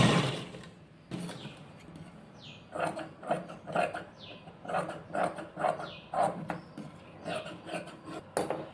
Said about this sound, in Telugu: ముందు ఈ ఎల్ షేప్ అనేది స్టిచ్ చేసుకుందాము సో నేను ఇది కింద నుంచి స్టిచ్ చేస్తున్నాను